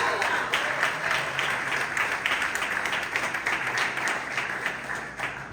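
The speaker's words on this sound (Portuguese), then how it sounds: "Vão aplaudir Jesus." Congregation applauding during a family church service, a moderately loud wash of clapping that holds steady and slowly thins toward the end, with some voices underneath.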